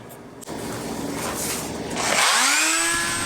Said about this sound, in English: That little oscillating Dremel tool was perfect for this job.